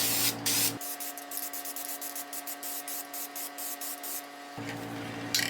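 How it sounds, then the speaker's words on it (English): A spray can of blue layout dye hisses steadily for several seconds while marking a knife blank, a close, continuous airy spray with slight pulsing, then stops. "This is blue layout dye and a spray can, which is actually pretty handy."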